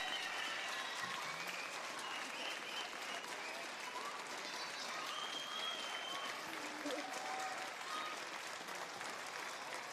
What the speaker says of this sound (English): And a well-deserved applause for the home team.